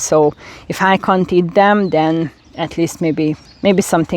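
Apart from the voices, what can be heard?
None of the usual background noises is heard.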